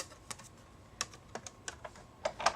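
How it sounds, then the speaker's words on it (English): An old Big Shot die-cutting machine presses plates through its rollers, giving a scattered series of faint, sharp cracks and ticks at an uneven rhythm against a quiet background. "Don't worry about that cracking sound, that's totally normal. It's not breaking or anything, it's just the pressure of the plates going through the machine."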